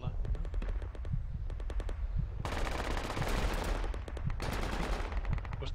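Gunfire in the military shooter game Project Reality: rapid bursts of automatic fire, first at a distance, then louder, heavier volleys close by in quick rattling strings, with players talking over the shooting.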